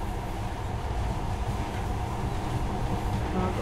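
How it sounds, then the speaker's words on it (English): A monorail train in the post-apocalyptic shooter game Metro: Last Light runs with a steady, loud rumbling roar and no pauses, heard alone. "In the past, trains were ordinary things, but now, this monorail seems magic, doesn't it?"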